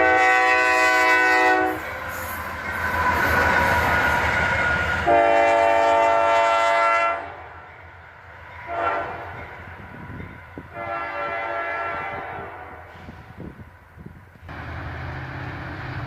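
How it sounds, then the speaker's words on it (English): Two locomotives running light power in snow sound their train horn in several long blasts separated by pauses, loud and close, with rumbling engine noise between the blasts. "we had another two locomotives running light power"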